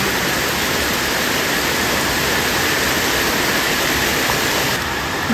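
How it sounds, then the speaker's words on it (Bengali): Heavy monsoon rain in Shravan pours down as a dense, unbroken hiss that stays loud and even throughout, with no voices over it. "বৃষ্টি আর বৃষ্টি।"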